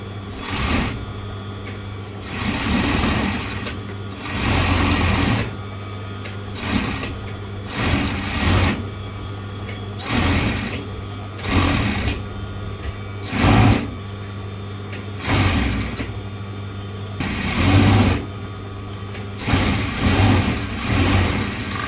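A sewing machine runs stitching along the edge of a garment sleeve during an alteration, close and loud in repeated bursts of rapid mechanical whirring, each run lasting a second or two and separated by short pauses.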